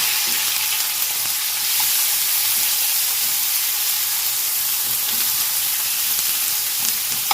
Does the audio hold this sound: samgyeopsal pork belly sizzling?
yes